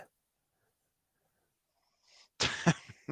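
After near silence, a sharp cough bursts out close up, quickly followed by a second cough.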